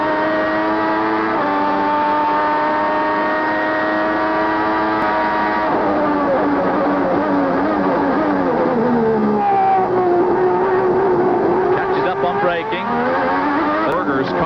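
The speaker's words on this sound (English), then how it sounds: "But just listen to that V12 from his viewpoint." A Ferrari V12 Formula 1 car at the 1989 German Grand Prix screams at high revs, pitch rising through gears with shifts and a long sustained wail, while a commentator talks over it.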